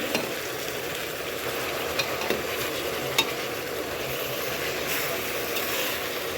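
Marinated beef cooks on browned fried onions in a pot, a steady loud sizzle with a few sharp stirring knocks and clicks close by, without talk.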